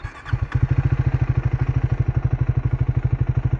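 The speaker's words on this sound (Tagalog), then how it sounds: "So yun ang ating sound check sa stock exhaust ng Speed 400." Triumph Speed 400 motorcycle on its stock exhaust, starting up and then idling close by with a loud, even, thumping single-cylinder pulse, heard alone without talk.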